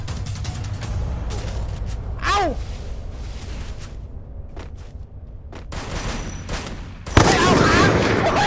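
Rapid gunfire crackles in bursts over a busy Free Fire game soundscape, with a whooshing effect midway and a louder chaotic explosive burst of noise at the end.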